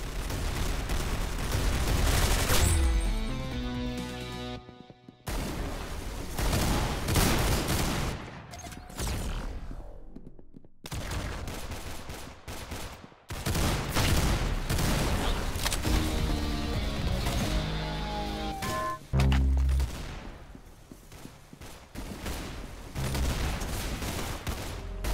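Dense gunfire from the video game Arsenal: repeated bursts of automatic fire and loud booming shots fill the scene in waves with brief pauses, with no talk over it.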